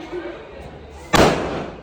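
One sharp, loud firecracker bang bursts near the end, its crack trailing off into a short rumble after quieter background noise.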